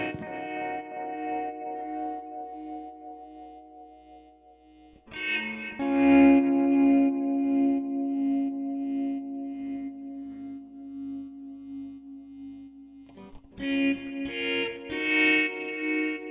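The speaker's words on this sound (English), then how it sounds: "used this LFO here to automate the volume in order to give it that classic kind of tremolo" A sustained synth tone with a steady, rhythmic volume pulsing, shifting to fuller, brighter chords partway through; no voices.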